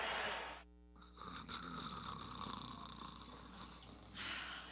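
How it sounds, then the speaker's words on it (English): A man snoring in a bedroom, one long rough rasping snore, then a brief pause and the start of another. "His snoring keeps me up all night."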